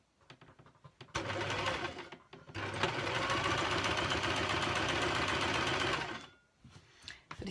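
A sewing machine runs a zigzag stitch in one long steady whirring burst of several seconds, framed by brief short stitches and handling clicks before and after.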